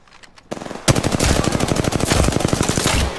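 Rapid automatic gunfire in the Apex Legends video game, a loud burst of fast, evenly spaced shots that starts after a short quiet lead-in and runs to the end.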